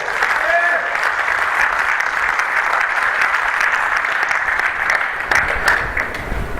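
A church congregation applauds during a Spanish-language service, a dense and even wash of many hands clapping that stays loud and sustained throughout.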